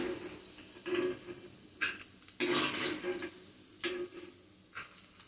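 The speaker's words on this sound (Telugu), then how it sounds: "ఇప్పుడు దీనిలోనే ఉల్లిపాయ పచ్చిమిరపకాయలు వేసుకుని దోరగా వేయించుకోవాలి." Onion and green chillies frying in hot oil in a pan, with bursts of sizzling and stirring that rise and fall several times over a steady low crackle, close and fairly loud, no talking.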